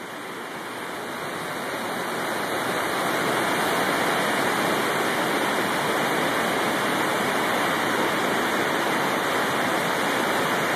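A huge release of water at Hoover Dam roars in a dense, continuous rush that swells over the first few seconds and then holds loud and steady throughout.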